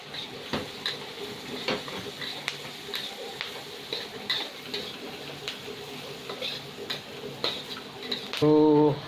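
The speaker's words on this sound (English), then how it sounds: "Adding some onions and curry leaves." Onions and curry leaves fry in a pan for butter pepper chicken, a moderate crackling sizzle with regular ticking taps of a spoon against the pan, near and without speech, ending in a brief louder tonal clatter.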